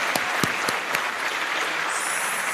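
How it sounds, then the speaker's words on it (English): Loud, dense clapping from a dinner audience at a Youth of the Year awards event honoring the top three finalists, with a few sharp close claps standing out early and the sound holding steady to the end. "Let's give them, the first three, a round of applause."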